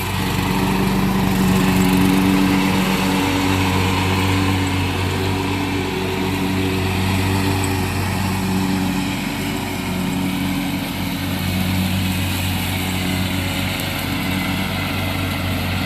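Riding lawnmower with a Kohler engine running steadily while mowing grass, a continuous droning hum with a low throb, loud and close throughout with no talk.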